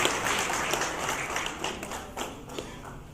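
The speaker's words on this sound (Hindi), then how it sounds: "एक बार हम जोरदार तालियों से इस विमोचन के साक्षी बने" An audience at a book launch breaks into steady, dense clapping that carries on throughout, gradually thinning toward the end.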